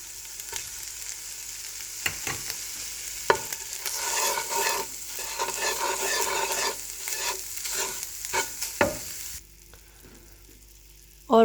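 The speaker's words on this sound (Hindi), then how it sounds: "इनको हल्का सा भूनेंगे।" Garlic and ginger paste frying in a pan, a steady close sizzle that keeps going with occasional stirring scrapes, then cuts off sharply near the end.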